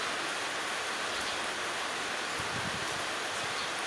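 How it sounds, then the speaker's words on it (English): Rain falls over a garlic-growing garden, a faint, even hiss of drops steady throughout with no voices. "it's raining."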